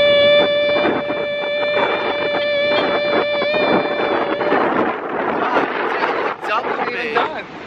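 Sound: wind blowing on the beach

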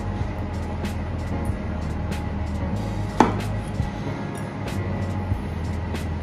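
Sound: knife chopping straw mushrooms in half

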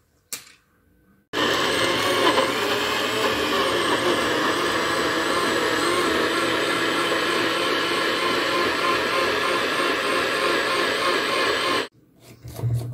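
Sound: blender blending a fruit drink

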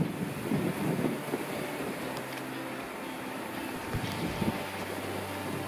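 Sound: wind blowing outdoors on a dike

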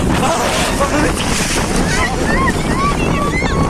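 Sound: strong wind by the sea

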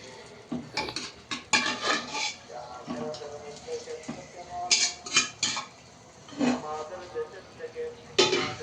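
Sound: stirring rice and lentils in a pot for khichuri

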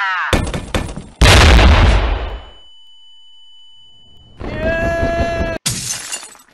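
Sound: flashbang grenade going off in a video game

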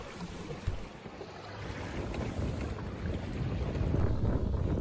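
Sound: wind picking up over a fjord

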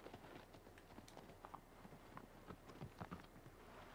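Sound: horse hooves in Shadow of the Colossus video game

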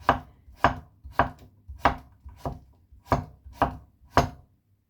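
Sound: chopping onion and tomato

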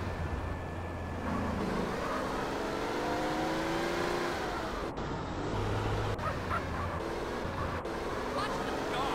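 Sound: car driving in video game GTA San Andreas

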